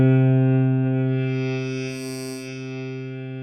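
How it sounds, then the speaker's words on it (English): Thick, sustained synth bass tone from a wavetable oscillator on the Thor synthesizer in Reason, loud and steady with a buzzy, distorted edge and a brighter filtered shimmer rising and fading midway, heard alone without any voice. "Let's listen to the bass sounds."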